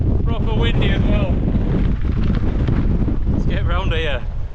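Strong wind on a fell-top summit in the Lake District buffets the microphone with loud, rumbling gusts while a person speaks briefly at the start and again near the end.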